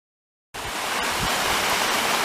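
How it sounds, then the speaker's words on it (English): A waterfall in Shenandoah National Park near Compton Gap roars as a steady broadband rush after a brief silence, loud and continuous, with no talking. "There's the waterfall."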